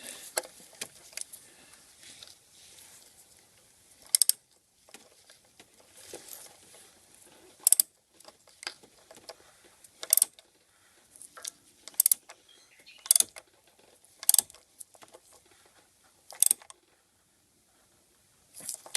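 Ratchet wrench tightening a K&N high-performance oil filter: sharp, isolated clicks spaced every second or two, close and distinct, with faint handling noise between them and no speech.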